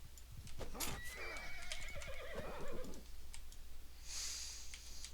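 A horse in a medieval campaign video game lets out a clear whinny up close, preceded by a few hoof clops, with faint keyboard clicking in the background and no talk.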